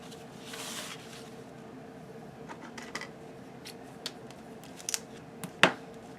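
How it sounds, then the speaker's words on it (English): Scissors snip through traced fabric for a fabric photo album, a few quiet, scattered cuts against low room noise, with one sharper snip near the end. "we're going to trace and then cut that one out"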